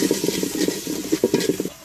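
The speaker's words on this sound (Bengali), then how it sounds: "বেগুন ভাজার মশলাটা লাড়া হচ্ছে।" A spoon stirs spice mix for fried eggplant in a pan, giving rhythmic scraping strokes over a soft sizzle, close and fairly loud, with no talking.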